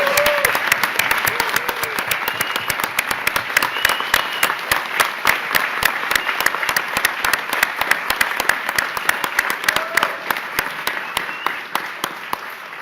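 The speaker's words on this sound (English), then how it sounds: "Can we please give them a huge round of applause?" A large audience gives sustained applause at a public announcement of a new hospital in Western New York. Loud, crisp claps pile up continuously from start to finish with no talking.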